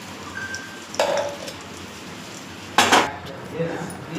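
Metal pots clank twice in a home kitchen while homemade ghee is strained from one vessel into another, with loud, short clinks over a low background hiss.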